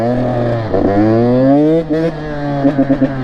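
A Yamaha YZ450 dirt bike engine revs up and down close by, its pitch sweeping upward and then stuttering in short throttle blips toward the end.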